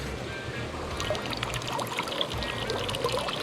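Crawfish being rinsed in river water right at the riverbank during a Jamaican outdoor catch-and-cook, giving a steady pouring, trickling splash that runs continuously and fairly close with no talk.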